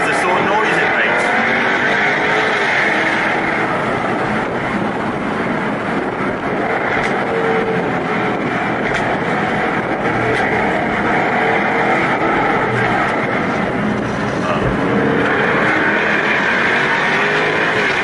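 A Jaguar F-Type sports car, V6 or V8 S, roars with a loud, sustained engine note for the whole stretch, with voices faintly mixed in.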